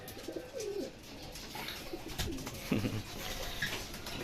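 Racing pigeons coo at a loft in Pozorrubio, Pangasinan, with several soft, close coos and some faint chirps over a low background, no talk.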